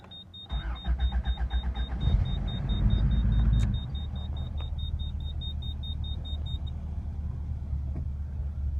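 A rebuilt car engine cranks and catches with a loud surging rumble for a few seconds under a steady electronic beep, then drops into a quiet, even idle that runs on alone.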